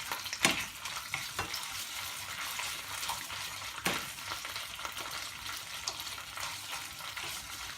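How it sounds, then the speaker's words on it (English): Hot oil fries tomato puree for Punjabi chana with a continuous near sizzle, a few stirring clatters and spoon knocks breaking through the steady crackle. "I love this sizzling sound."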